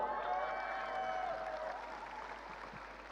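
A large audience at a corporate global event applauds and cheers, a dense wash of clapping that is moderately loud and fades slightly toward the end, with faint crowd voices mixed in.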